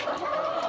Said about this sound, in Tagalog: Nagsisitukaan pa rin yung ating mga manok.